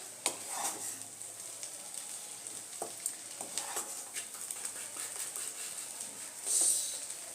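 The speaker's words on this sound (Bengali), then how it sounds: "ভেজিটেবিলের সাথে এবার একটু এটা ফ্রাই করে নেব ফ্লেমটা মিডিয়াম রাখবো" Soybean chowmein stir-fried with vegetables over a medium flame gives a soft, steady sizzle, broken by scattered light scrapes and taps of stirring, with a brief louder hiss near the end.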